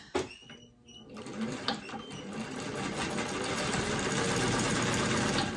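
A sewing machine stitching a quilt starts up after a brief pause and settles into a loud, steady mechanical whir close by, running continuously to the end.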